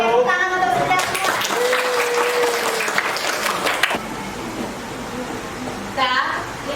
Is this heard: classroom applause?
yes